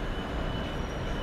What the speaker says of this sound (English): Got the Scunthorpe to Eastleigh steel train there,